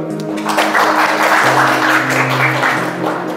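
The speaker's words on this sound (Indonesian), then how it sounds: "Oke, beri tepuk tangan dulu." Students in a classroom clapping together, a short burst of brisk group applause over a persistent low hum, lasting a few seconds at fairly close range.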